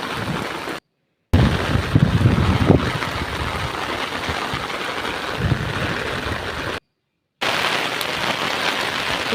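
Heavy, steady downpour drumming on surfaces in a broad continuous roar, with a couple of brief dropouts, outdoors in cold wind where umbrellas are being blown about.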